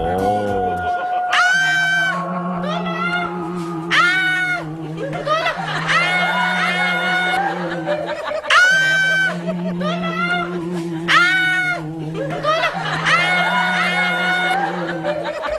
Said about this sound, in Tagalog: isang baklang sumisigaw at humihingi ng tulong dahil nakakita ng multong bakla